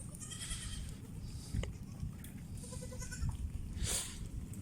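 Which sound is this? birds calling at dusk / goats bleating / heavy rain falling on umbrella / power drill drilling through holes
goats bleating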